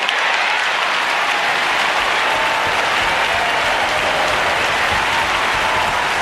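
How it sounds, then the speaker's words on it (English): A large audience at a memorial service claps continuously and loudly, a dense, even wash of applause from start to end with no speech. "We were clapping for Johnny."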